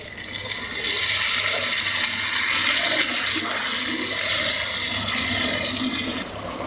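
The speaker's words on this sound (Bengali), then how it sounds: "এবারে পানি দিব, পানি দিয়ে কষিয়ে নিব" Water pours into a pan of country chicken curry, a sustained splashing rush lasting several seconds that swells then eases off at the end.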